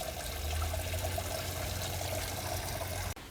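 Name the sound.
small waterfall trickling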